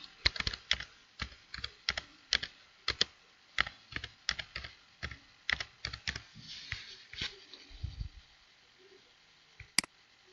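Keys clatter on a computer keyboard as a search term is typed into an inventory search field. About two dozen close, crisp taps come in quick, uneven bursts, then a short pause and a single sharper final click, with no talk.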